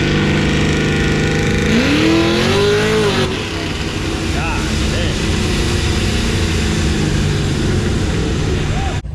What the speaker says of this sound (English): this guy's getting ready to run his Pro Charge LS short bed square body